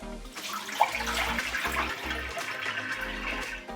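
Excess water rushes and drains out of a Dinamica Black coffee machine during descaling, a continuous gushing flow with a low mechanical hum beneath it and a brief splash near the start.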